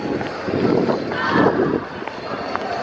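Wind buffeting a microphone outdoors on a cold, breezy day, a steady broadband rumble and rush that swells and eases across the clip, with no speech.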